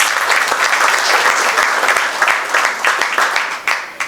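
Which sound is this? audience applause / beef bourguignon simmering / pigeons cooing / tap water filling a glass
audience applause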